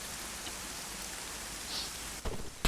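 Rain falls in the military game ARMA III as a soft, even hiss that stays constant, with a couple of brief thumps near the end and no one speaking.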